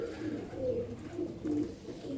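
A Teddy pigeon coos nearby in soft, low repeated phrases, several rounded hoots in a steady rhythm against a quiet background.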